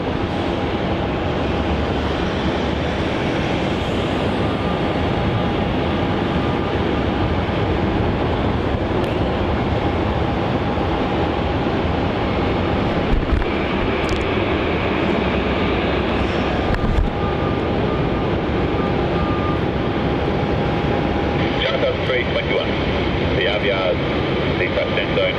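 A jet airliner at Melbourne Airport rolls off runway 34 onto a taxiway, a loud, steady, broadband engine roar and rumble that holds for the whole stretch, with talk faintly mixed in.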